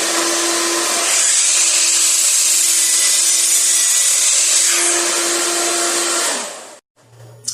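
A power saw cuts through two wooden 2x4 boards clamped side by side, a loud, continuous whining rasp that holds for about six seconds before spinning down and stopping.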